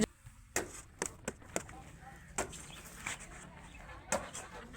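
Hens and ducks in a yard make scattered clucks and squawks, a few sharp calls standing out over a low, steady background, close and moderately quiet.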